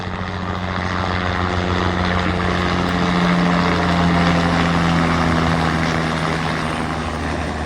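A helicopter flies over a Gujarat village, its engine and rotor drone steady and loud throughout, with no voices.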